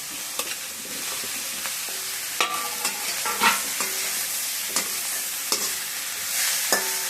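Onions sautéing in a pan for a mango and drumstick curry: a steady sizzle runs throughout, broken by repeated sharp scrapes and clinks of a stirring spoon, close and moderately loud, with no voices.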